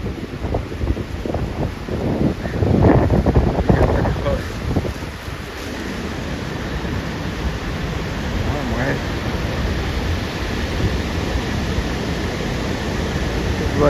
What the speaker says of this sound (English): The breeze coming this way.